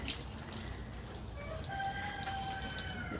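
A full, overflowing watering can leaks and pours water onto garden spots, a steady splashing trickle with faint drips and a few thin high ringing tones, fairly close and with no talking.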